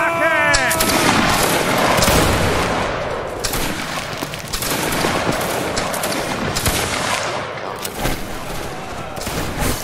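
Musket volleys crackle in a Napoleonic line battle video game, dense overlapping gunshots and distant booms firing continuously while players talk over the din.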